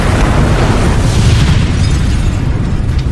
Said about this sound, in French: ouais, Rachel a explosé